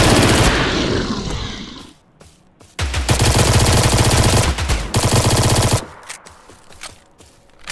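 Rapid bursts of automatic gunfire from a video game, loud and close, in two long sustained volleys separated by brief pauses and quieter scattered shots.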